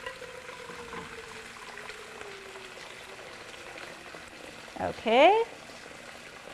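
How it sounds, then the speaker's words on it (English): Boiling water is poured into a pot of browning chicken and spices for a Palestinian maftoul couscous soup, giving a brief burst of splashing and sizzling near the end after a faint simmering background, with a short spoken word earlier. "just going to add this boiling water here."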